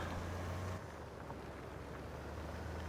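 A Deutz-Fahr tractor engine in Farming Simulator 22 drones steadily with a broad, noisy roar, dropping slightly in tone after the first second and then holding constant, with no talk.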